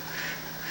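A duck quacking loudly and steadily, close and alone, with a nasal, buzzy tone throughout the short burst.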